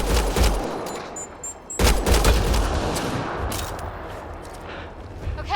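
Rapid bursts of gunfire ring out in the video game Mass Effect Andromeda, loud and close, with a short pause before the shooting resumes as a sustained barrage, mixed with faint voices.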